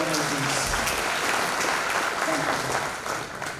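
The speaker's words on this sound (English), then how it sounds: "Can we have a huge round of applause for our fellow participants, our distinguished guests, and the organizers?" Audience applause at a national agriculture and forest rights conference at SFS College, a steady dense round of clapping throughout, tapering slightly toward the end, with some faint voices underneath.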